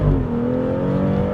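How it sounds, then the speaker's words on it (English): A BMW in sport mode, floored, accelerates hard, its engine rising in pitch through a brief shift; loud and close with no talking. "its acceleration, the engine sound, shift, transmission shift"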